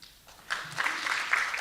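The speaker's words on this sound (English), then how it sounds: "Please, let's show our appreciation once again with a big round of applause." Audience applause at a food-safety conference hall, starting quietly and swelling after half a second into a steady, moderately loud patter of many hands.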